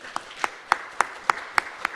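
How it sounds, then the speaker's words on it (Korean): Steady, evenly spaced claps from a church congregation during a worship service, seven sharp strokes at a moderate pace in a reverberant room, with a faint murmur beneath. "저희 다시 한번 박수로 축복합니다"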